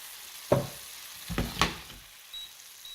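Noodles dropped into a hot pan with vegetables give two sharp bursts of sizzling, close and fairly loud, then fade to a quiet hiss.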